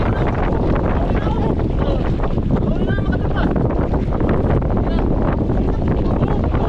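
Strong typhoon wind at sea buffets the microphone in a loud, continuous roar, with water and boat noise and faint voices half-buried underneath.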